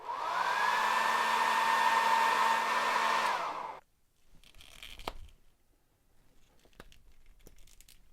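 A hair dryer blows hot air on an action figure torso, a loud steady whine and rush for several seconds that cuts off abruptly, followed by quiet plastic handling clicks and rustling.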